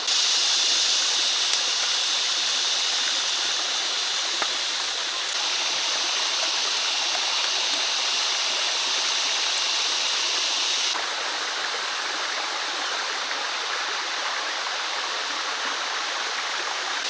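A clean river in a green forest flows steadily, its continuous rushing wash of water loud and close with no pause and no talking.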